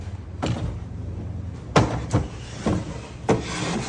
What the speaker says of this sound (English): So you push it in, make sure it's locked in, and you just close the drawer.